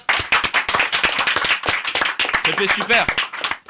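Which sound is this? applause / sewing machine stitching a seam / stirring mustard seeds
applause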